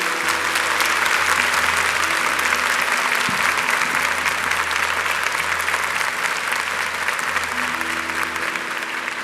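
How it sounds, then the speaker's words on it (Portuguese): A church congregation applauds after a Catholic Mass reading, dense sustained clapping filling the space for several seconds with a low background hum, no speech over it. "Vamos aplaudir a palavra de Deus."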